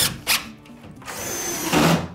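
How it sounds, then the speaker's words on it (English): A power drill drives screws into wall studs while drywall is being installed, giving short bursts of high whirring with brief pauses between them, loud and close. "mark all your studs by putting a screw in them"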